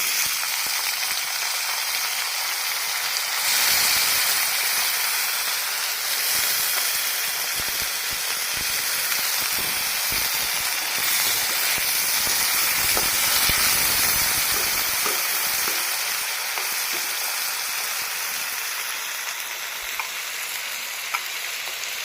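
Thinly sliced potatoes fry in hot tempered oil in a home kitchen, giving a steady, close sizzle and hiss with occasional stirring scrapes running throughout, no voices.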